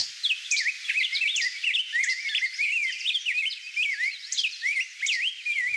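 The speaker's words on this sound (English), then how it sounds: "Rose-breasted grosbeak." A rose-breasted grosbeak sings a continuous, warbling run of rich whistled phrases, rising and falling quickly and steadily, clear and fairly close, with no other sounds.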